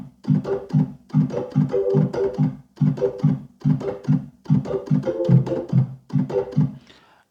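Reggae organ shuffle with a right-hand press, played as a steady bubbling pattern of short, choppy chords repeating in even phrases, close and alone without any talk.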